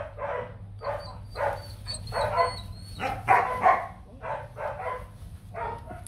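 A young, somewhat thin Rottweiler dog gives a rhythmic series of short, close barks and yips, with whimpering notes between them, over a low steady hum.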